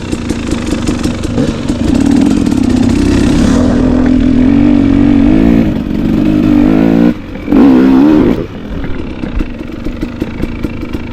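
A KTM 300 two-stroke dirt bike ridden along single track, its engine loud and close with a sustained buzzing drone that rises and falls as the throttle changes, a brief dip, then a revving burst.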